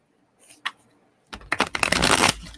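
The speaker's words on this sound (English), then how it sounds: "Let's get one more shuffle." Tarot cards being shuffled by hand: a couple of soft taps first, then a loud, close riffling flurry of cards that runs for about a second before stopping.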